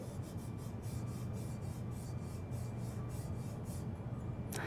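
Something rubs along the laser-etched brake track of a Bontrager Aeolus XXX 2 carbon road wheel rim, making a continuous soft, gritty rasping with faint rhythmic strokes, close and fairly quiet, ending in a brief sharper scrape.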